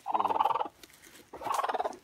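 A small hen calls by her nest in a box at a rural smallholding, two rapid, pulsing bursts of clucking, close and fairly loud, separated by a short quiet gap.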